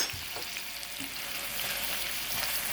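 Shrimp sizzle and fry on a hibachi griddle with a steady hiss, plus a few soft stirring scrapes, and no one speaks.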